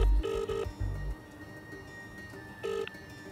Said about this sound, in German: Mariana verliert keine Zeit und ruft Eva an.